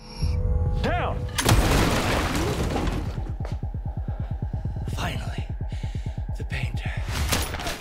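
Loud gunfire bursts and a crashing impact, followed by a rapid rattling volley of shots that carries on steadily to the end.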